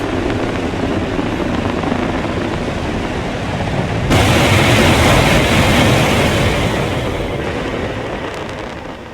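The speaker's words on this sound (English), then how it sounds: "And we have liftoff." Rocket liftoff in the video game Mars Horizon, a loud, steady broadband roar that swells abruptly midway and holds at full strength to the end, with no talk over it.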